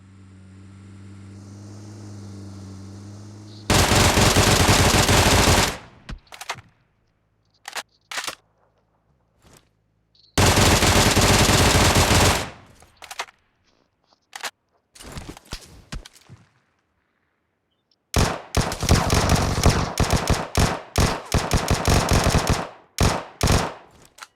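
Gunfire in the mobile battle royale game BGMI comes in loud automatic bursts of several seconds each, separated by near-silent gaps, then ends in a longer run of choppy rapid shots.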